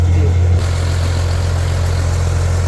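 The engine of a small launch boat at sea drones steadily with a deep, constant low hum. Its level dips slightly early on, then holds even and close.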